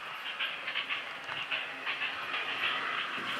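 A Bachmann OO gauge model train rolls along layout track as it pulls away from a station, with a steady close-up whirring hiss and light rhythmic clicking of wheels over rail joints, no voices.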